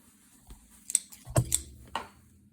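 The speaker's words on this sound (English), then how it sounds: "I'm just gonna take my scissors and trim off the excess" Scissors trim excess quilting-cotton fabric on a sewing project: a few quiet, close snips sound one after another, with small handling noises between them.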